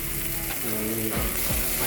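Chopped tomatoes frying in a pan for a Kannada home-style Hesar Kal dish, giving a short, dense, steady sizzle with a few soft scraping stirs and no voices.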